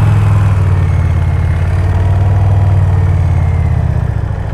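A motorcycle engine runs at low, steady revs during slow-speed riding practice, a loud, close, even throb with a brief dip near the end.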